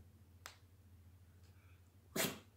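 A dog sneezes on command: a small snort-like puff first, then after a pause one louder, close sneeze over a steady low hum.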